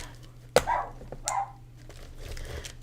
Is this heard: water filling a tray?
no